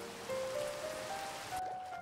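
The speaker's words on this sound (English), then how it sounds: "Oh, I hate the rain. It just makes everything so dark." Steady rain hisses continuously in a Minecraft world, a soft, even wash of falling drops with a faint tone holding beneath it.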